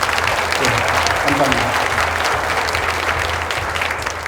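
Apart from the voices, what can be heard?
audience applause at opening ceremony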